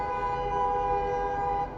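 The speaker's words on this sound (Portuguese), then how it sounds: "Buzinas." A car horn sounds as one long, steady toot that holds for nearly two seconds before cutting off, fairly loud and alone.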